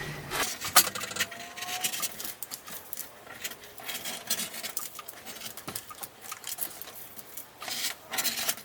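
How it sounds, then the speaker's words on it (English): Scissors cut through polar fleece pieces for slippers. Close, soft snipping, rubbing and rustling of the fabric run steadily with small irregular clicks, and no one speaks. "Now we're going to cut out the same exact pieces, but in the polar fleece."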